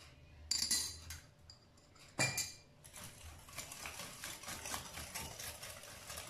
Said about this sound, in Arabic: غادي نخدمو هاد البيض هو الأول مع السكر